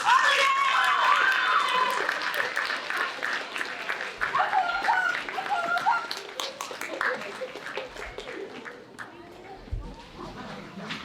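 An audience applauds 9th through 12th grade contestants at an oratorical and art competition, a dense wash of clapping that is loudest at the start and tapers slightly. Scattered voices and chatter sound beneath it.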